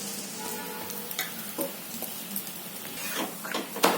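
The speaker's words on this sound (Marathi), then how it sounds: "हे झाले ढेपला भाजते जरा भाजून होतं" Methi paratha (dhepla) fries in oil on a pan with a low, steady sizzle, broken by occasional light clicks and scrapes of a spatula, the last one louder and close.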